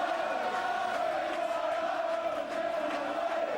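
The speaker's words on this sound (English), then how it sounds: "the crowd are singing now" Darts crowd at the PDC World Final singing en masse, a steady, dense chant from a packed arena at moderate distance, continuous throughout with no talk on top.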